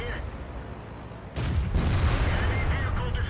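A tank gun fires in World of Tanks, a sudden loud boom near the start of the clip that hangs on as a long rumbling tail. Battle noise fills the background throughout.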